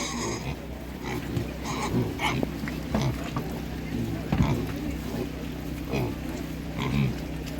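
Pigs grunt and snort at a livestock market in short, irregular bursts against a steady low background hum, with occasional louder squeals and shuffling noises close by.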